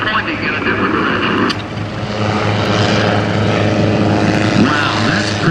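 A helicopter flying a pirouette maneuver at the 2009 Blue Angels Homecoming airshow gives a loud, steady engine and rotor drone that stays near and continuous throughout, with a voice faintly underneath.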